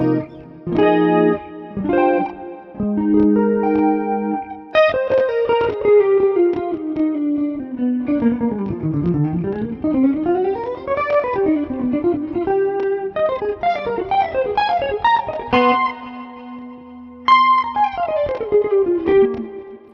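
Electric guitar with a chorus-and-distortion effect plays quick single-note runs and sustained bends, thick and shimmering, with no voices.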